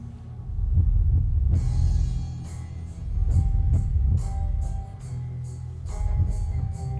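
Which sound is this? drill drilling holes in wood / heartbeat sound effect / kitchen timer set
heartbeat sound effect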